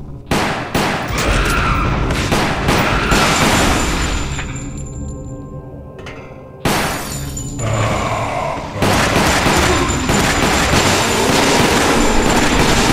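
Gunfire in the Resident Evil: The Umbrella Chronicles video game, a continuous run of loud, dense shots and booms with a short lull in the middle before the firing resumes.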